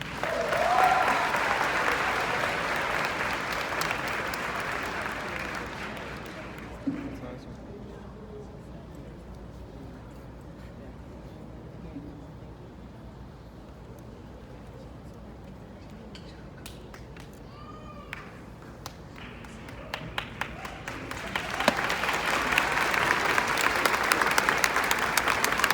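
Middle school graduation ceremony for the class of 2023: a loud burst of applause from the crowd fades into a quieter stretch of scattered claps and murmurs, then rises again into another full round of clapping near the end.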